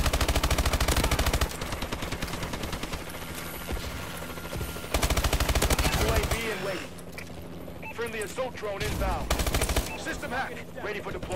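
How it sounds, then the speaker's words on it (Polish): A video game air raid, with rapid machine-gun bursts and heavy gunfire rattling loudly in repeated volleys, while someone talks over the battle noise. "to chyba lata samolot. Nie, to nalot."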